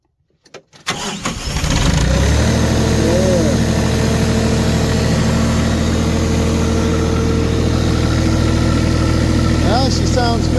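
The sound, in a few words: diesel engine starting and running after bleeding fuel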